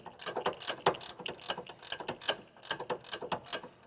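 Close, quiet ratchet clicking while a sway bar link is worked on under a 2007-2016 front-wheel-drive Honda CR-V, with irregular bursts of rapid pawl clicks and short pauses between swings.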